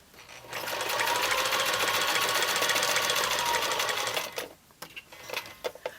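Sewing machine stitching a quilt's binding up to a fold line, a steady, fast motor whir running for about four seconds before stopping, followed by a few soft clicks and handling taps.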